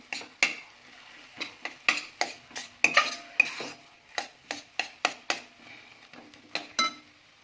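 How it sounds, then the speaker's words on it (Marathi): A spoon stirs ground paste and fresh pigeon pea (toor) beans in a pan, producing a quick series of distinct scraping clinks in an uneven rhythm over a faint sizzle. "आपण यामध्ये तुरीचे दाणे टाकून घेऊया आपण वाटून घेतलेले आहे ते वाट टाकणार आहोत मिक्स करून घेणार आहोत"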